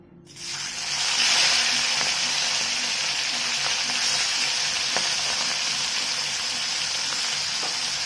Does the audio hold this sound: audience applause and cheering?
no